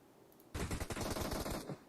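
A sustained burst of rapid automatic gunfire in PUBG, a dense string of sharp cracks lasting about a second, loud and close.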